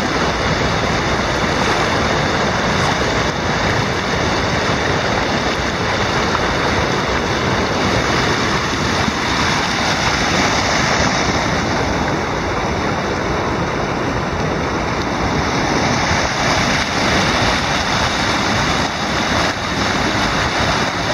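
Water pouring steadily through notches in a river weir, a continuous broadband rush with a surf-like wash that stays loud and even throughout, with no voices.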